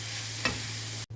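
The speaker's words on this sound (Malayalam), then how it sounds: "തേങ്ങ തിരുമിയത് ഞാനൊന്ന് ചൂടാക്കുവാണേ" Grated coconut warming in ghee in a kadai, a steady soft frying hiss with one brief stir scrape, close and continuous with a low hum underneath, alone without talk.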